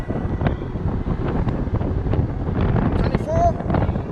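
Engwe Engine Pro 48V electric bike ridden fast on throttle only, with steady broadband wind rush buffeting the microphone throughout and a faint voice underneath.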